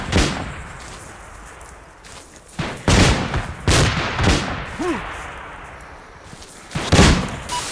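Bursts of rapid gunfire from a game, several separate volleys with pauses between, loud and close with a faint whistling sound mid-clip.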